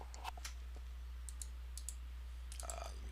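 Sparse clicks of keys on a computer keyboard come in short bursts at the start and end, faint against a low steady hum.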